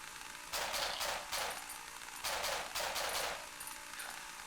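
Bursts of gunfire from a weapon in the horror video game Cry of Fear, four or five quiet rapid volleys separated by short pauses, with no voices over them.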